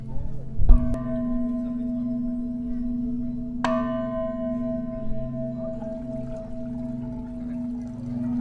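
A small bell at a meditation hermitage is struck twice, each a sharp clear ding that rings out and slowly fades over a steady low background hum.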